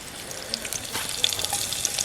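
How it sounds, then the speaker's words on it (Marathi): Soft crackling sizzle of garlic frying in heated oil for tempering, with small pops and spits scattered throughout. "तेल तापलं आहे हो आता लसूण टाकून घेते"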